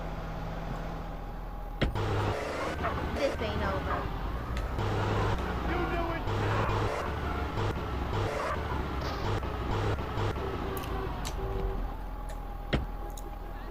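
A grey BMW M4 GTS is driven, its engine giving a low steady drone with muffled cabin noise and occasional clicks while someone talks throughout.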